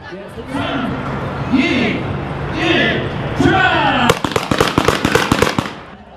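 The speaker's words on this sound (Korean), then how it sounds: "폭죽 소리와 함께 10km 코스의 마라톤이 시작됩니다." Korean announcement-style talk over a crowd at the start of a 10 km marathon in Yeouido Park, Seoul, then a rapid string of sharp firecracker bangs bursts out loud and close for the last two seconds.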